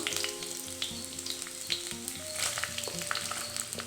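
Chopped onion frying in hot oil, a steady bright sizzle with intermittent scraping stirs and clinks close by, no voices.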